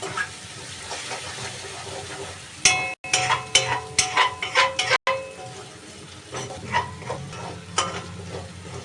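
Ground coriander-cumin and Kashmiri red chilli powder frying in a pan for an egg curry, a steady close sizzle with stirring scrapes and a few sharp utensil clacks, loudest in the middle, under occasional faint voice.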